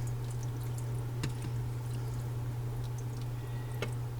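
Water poured over freeze-dried pork chops in a container gives a soft, continuous trickle with a few small splashes and drips, close by over a low steady electrical hum.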